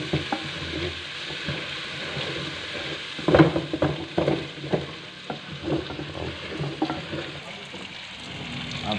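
Chicken with ground coriander and salt is stirred in a pan for a white karahi, giving close scraping and clinking stirs over a soft, steady sizzle, with no talk.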